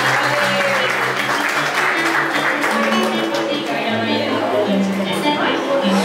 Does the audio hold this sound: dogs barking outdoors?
no